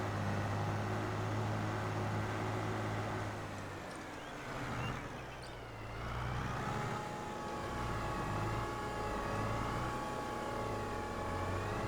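A tractor engine in Farming Simulator 22 drones steadily with strong low harmonics, dipping briefly in the middle before pitching and revving back up, loud and continuous with no voices.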